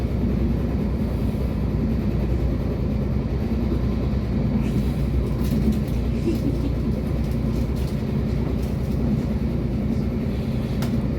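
Steady low rumble and rattle of a moving train near Royston, Hertfordshire, heard from inside a carriage, constant and droning with no voices.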